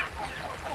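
Chickens in a rainy backyard garden run clucking softly, a few low murmuring calls close by over steady background patter.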